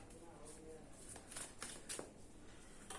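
Tarot cards being shuffled close by, a few quiet crisp riffles and slides in short bursts over a low, faint background.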